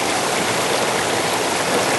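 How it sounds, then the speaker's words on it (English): Water flowing in a mountain creek on Mt Williamson, a steady, close, full-bodied rushing and babbling that stays even throughout, with no voices. "So we're at the creek."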